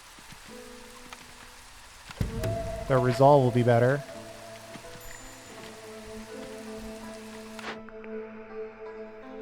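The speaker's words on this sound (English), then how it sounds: "Maybe if folks aren't totally drenched in rain" Steady rain patters over the settlement in the video game Against the Storm, a soft continuous wash running under talk, with a musical game cue rising briefly in the middle.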